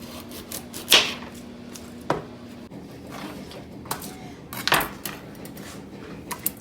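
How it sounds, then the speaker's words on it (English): A kitchen knife cuts peeled organic carrots on a board for homemade chicken noodle soup, producing a few sharp, separate knocks and clicks close by, with quiet pauses in between. "we are going to cut them"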